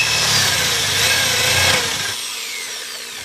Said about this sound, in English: we're ready to drill out the bolt holes